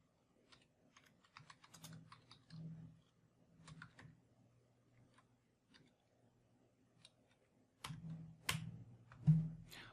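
Typing a command on a computer keyboard during a Vagrant setup: scattered bursts of close key clicks, uneven and hesitant, with short pauses between runs and a louder flurry near the end.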